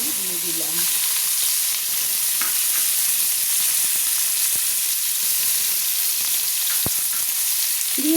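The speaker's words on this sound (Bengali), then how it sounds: "নেড়ে নেড়ে তেলের সঙ্গে আমি পেঁয়াজগুলো ভেজে নিচ্ছি" Three thinly sliced onions fry in oil for prawn malai curry, a dense, steady close sizzle throughout with a few faint stirring ticks.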